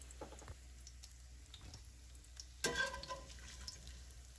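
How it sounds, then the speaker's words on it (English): Bacon cut into one-inch pieces fries in a pan, a faint steady sizzle with a sharper clatter of stirring midway, no one talking. "we're going to fry those bacon pieces until they are crispy"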